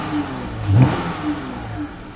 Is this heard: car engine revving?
yes